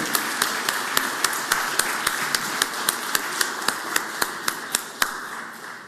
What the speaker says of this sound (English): If y'all could all please give them a round of applause and show them some love